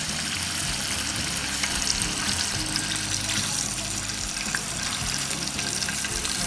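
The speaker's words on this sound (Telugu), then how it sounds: "ఇలా ఒక్కొక్క పీసు వేసుకుంటూ మంచిగా ఫ్రై చేసుకోవాలండి." Pieces of fish fry in hot oil in a kadai in a home kitchen. A dense, steady sizzle runs loud and unbroken throughout.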